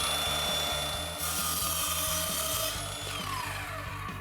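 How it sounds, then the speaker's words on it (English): A power saw runs steadily for about four seconds as it trims the end off a plywood cleat along a fence, its whine loud and close, with a rhythmic low chatter beneath and no talking. "Just take the saw and make a cut right along the fence,"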